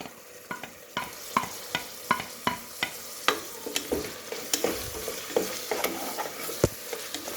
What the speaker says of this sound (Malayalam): ചതച്ച് ഇളക്കി കൊടുക്കാം.